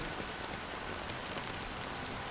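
Steady rain falls in a constant, dense hiss of drops on a surface, even and unbroken throughout.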